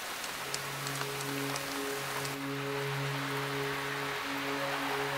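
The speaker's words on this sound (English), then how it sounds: "It rains here nearly every day." Rain patters steadily through a Tasmanian forest, a soft, even hiss of drops, with faint tonal hums running underneath and no speech.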